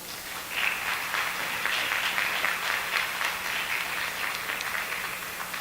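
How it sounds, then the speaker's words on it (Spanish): Sustained applause from a conference audience honoring the event's volunteer team, a steady wash of many hands clapping for several seconds with no talk over it. "pido un aplauso para el equipo"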